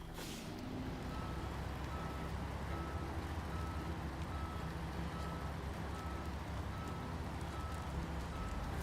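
A truck in the SnowRunner video game reverses with a steady series of evenly spaced electronic beeps over a constant loud engine drone.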